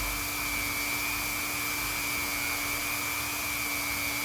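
A vinyl welding machine runs at a steady, loud, continuous whir with a constant high whine and a low hum as it comes up to heat and speed, with no voices.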